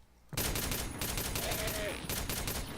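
Rapid, dense gunfire in a DOOM-style shooter game breaks in suddenly after a quiet start and rattles on continuously and loudly, with a faint tonal game sound passing through midway.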